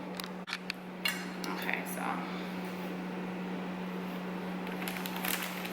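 Dishes and cutlery clink as shrimp scampi is plated, with a few bright clinks over a steady background hum.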